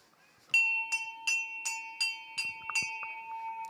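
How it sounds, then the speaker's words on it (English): Bell rung at a polo match, sounding eight or nine sharp repeated strikes with a sustained ringing tone, loud and close, with faint crowd noise beneath. "30-second bell rings."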